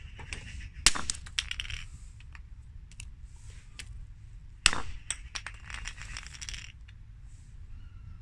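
A 16 ounce hammer striking a cast piece of Smooth-Cast 322 resin: two sharp hard clacks a few seconds apart, each followed by lighter ticks and clicks, in a fairly quiet room.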